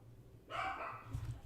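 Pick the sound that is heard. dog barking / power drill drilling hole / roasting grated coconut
dog barking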